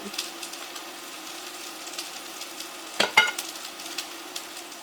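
Meatballs browning in a frying pan, a low, steady sizzle running quietly under the whole stretch, with a couple of sharper clatters near the middle.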